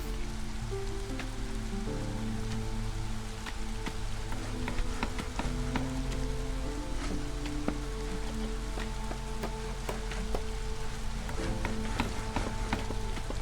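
Drizzling rain in the city-builder game Against the Storm, a steady soft patter of drops with sharp ticks over a layered, sustained musical background, continuous and moderately quiet.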